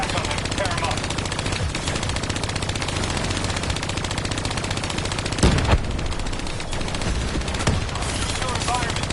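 Hijacked turrets in Call of Duty Black Ops 3 rattle off continuous machine-gun fire, a dense, loud, unbroken stream of rapid shots with a few heavier bursts layered over the din of the battle.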